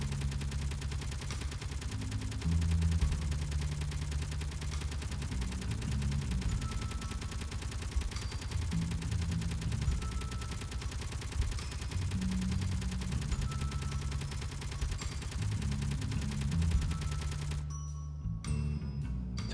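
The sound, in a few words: gun rounds fired at armor blocks in the video game Space Engineers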